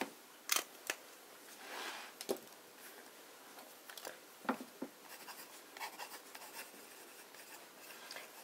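A broad-nib fountain pen loaded with Lamy Green ink scratches across copier paper in short, quiet strokes and taps, close and intermittent against a near-silent background with no talking.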